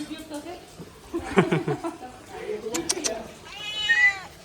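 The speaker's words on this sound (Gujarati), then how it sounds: "હવે આ મીંદડા." A cat meows a few times nearby, short rising cries, while a person talks and chuckles in the room.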